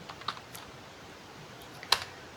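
Sparse, faint keystrokes on a computer keyboard while coding, a few isolated clicks spread over a quiet background with one sharper tap near the end.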